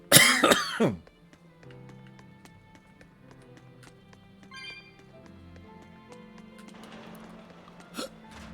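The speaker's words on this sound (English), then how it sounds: "Great, I got the hiccups now." A cartoonish hiccup-like burst from a character in the Tales of Berseria role-playing game, one loud voiced outburst at the start, followed by quiet game ambience.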